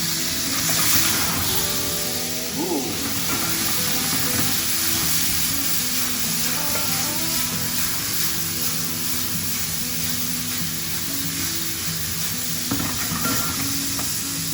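Leeks and onions sizzle steadily in a hot pan, a loud continuous frying hiss with stirring scrapes and faint background hum throughout.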